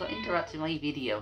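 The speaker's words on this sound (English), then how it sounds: "that's the cat" A house cat meows close by indoors, mixed with and partly under a person talking over it.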